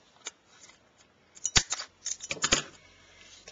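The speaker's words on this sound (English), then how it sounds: "I'm going to use my corner rounder and just round that corner and this one over here" A handheld corner rounder punch bites through paper corners of a Stampin' Up! card project, a few sharp close clicks and snaps with light paper handling between them.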